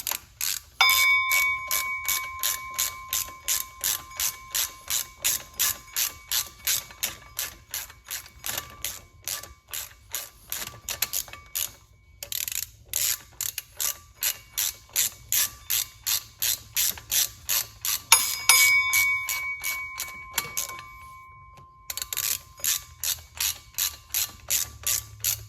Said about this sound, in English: Go ahead and get these bolts snugged up